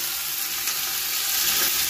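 Jackfruit curry fries in a pan with a dense, loud, continuous sizzle close by, and no one speaks.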